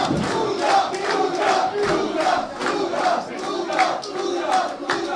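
A wrestling crowd at an independent show in Pelham cheers and chants for Ouga Booga with steady rhythmic roars, dense and sustained throughout without a break.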